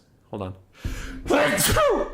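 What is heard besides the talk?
sneeze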